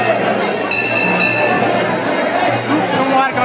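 Large crowd at the Tarkulhi Devi temple fair, a steady dense hubbub of many voices milling close around, with speech woven through the babble throughout.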